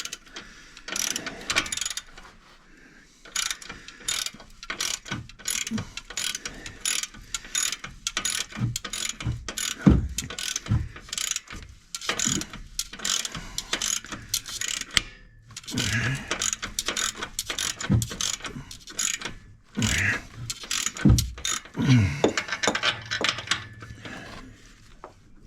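A hand ratchet clicks in rapid bursts while tightening a Honda Civic performance muffler, sharp metallic pawl ticks close by, separated by brief pauses, with no talking.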